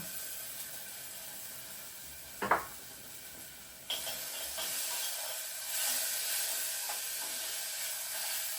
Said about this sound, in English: I'm gonna add onion.